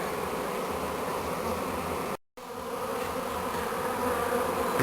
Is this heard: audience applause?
no